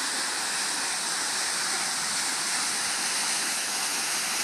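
Water pours over the spillway of McClure Dam on the Dead River near Marquette, Michigan, making a steady, loud, unbroken rushing roar with no pauses and no voices.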